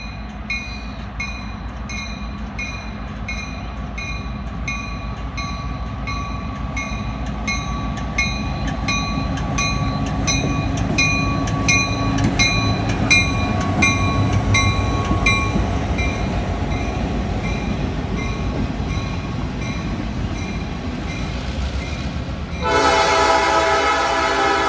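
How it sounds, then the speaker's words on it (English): A Canadian National freight train with locomotives rolls by with rhythmic clickety-clack of wheels on rail joints, loud and close, ending with a sharp horn blast near the end. "Other side of the yard, we see a train coupling to its cars"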